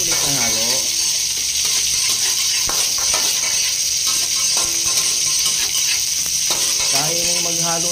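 Chili and onion stirred and frying in a pan for ginataang susô with laing, loud continuous sizzling with scattered scrapes and clinks of a utensil against the pan.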